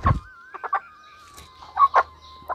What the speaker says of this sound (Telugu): ఇది మొత్తం ఏమంటారు బ్లాక్, ప్యూర్ బ్లాక్ కోడి.